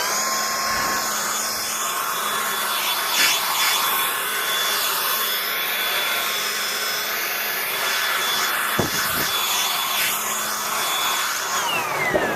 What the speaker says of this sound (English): the blower works the same way, and it's a variable speed blower, so as you squeeze the trigger